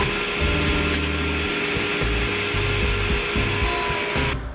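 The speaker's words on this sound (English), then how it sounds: "I'm gonna head over to the table saw." A table saw cuts through a wooden board, a loud, continuous whining buzz with the blade's steady hum and rough chattering bursts as the wood feeds through, stopping abruptly at the end.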